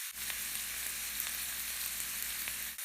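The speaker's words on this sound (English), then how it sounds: "Now just keep stirring and let it fry" Shredded cabbage and carrot frying for fried rice with bacon, a steady close sizzle and crackle with light stirring, no voices.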